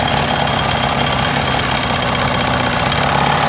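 A 1962 Johnson 75 hp outboard engine, warmed up and running with the carburetor fully open on a fitted distributor, holds a loud, steady, close drone with no pauses.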